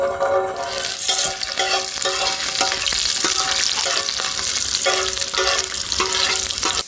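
About twenty peeled garlic cloves fry in roughly 30 ml of oil for mango chutney, making a loud, dense, continuous sizzle with crackling and stirring noise that cuts off abruptly at the end, no speech.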